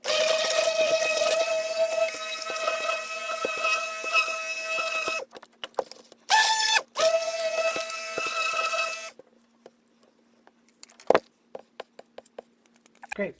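A stick blender whirs through soap batter made with honeysuckle-infused oil and heavy cream, giving a steady, high motor whine that runs for several seconds, stops and restarts briefly twice, then falls silent apart from faint clicks.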